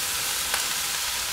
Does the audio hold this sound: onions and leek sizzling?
yes